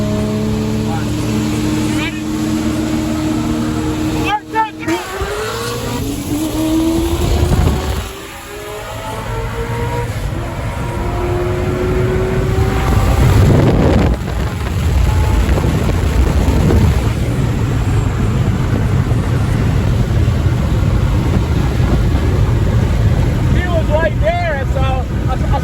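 A ProCharged 441 LSX C6 Z06 Corvette accelerates hard in a roll race, its engine note climbing and shifting through gears amid heavy wind buffeting, with voices talking over it.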